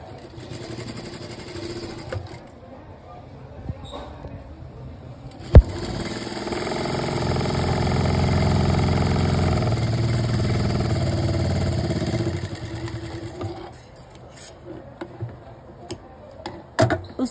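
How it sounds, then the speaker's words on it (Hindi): A sewing machine runs a quarter-inch stitch along the top fold of a pocket on plazo pants, giving a close, steady mechanical whir in a few bursts with pauses between them. "पॉकेट में ऊपर की तरफ एक पैर का सिलाई लगाना है"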